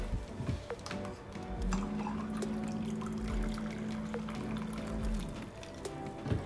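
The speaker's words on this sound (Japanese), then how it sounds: "でお湯を張ってですね、" Hot water being poured or run into a container to set up bread dough proofing, a steady rushing pour with a sustained tone and clinks underneath, close and continuous, without speech.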